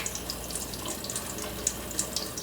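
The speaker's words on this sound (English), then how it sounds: "So you're going to get your water going." Warm tap water runs steadily from a kitchen sink faucet for hand washing before cooking, a continuous hiss and splatter at close range with no talk over it.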